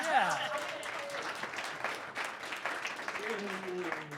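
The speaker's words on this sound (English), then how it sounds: "Everyone clap for SAIT." Audience applause at a live economics talk in Calgary, a steady broadband clapping wash filling the whole stretch, with brief voices rising over it near the start and end.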